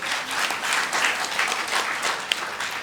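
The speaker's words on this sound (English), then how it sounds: "Can we give ourselves a round of applause?" Conference audience at an opening ceremony applauding, a steady, fairly distant patter of many hands clapping with no speech over it.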